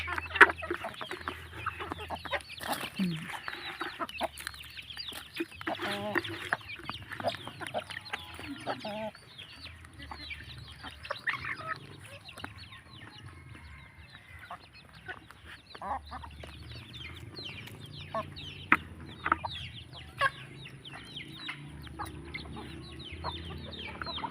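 A flock of chickens fed on photosynthetic-bacteria water clucks busily and repeatedly, a scattered, overlapping flock sound with a low hum beneath, steady throughout.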